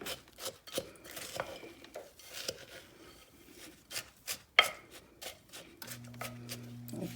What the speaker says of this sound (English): So I'm going to chop it up really good.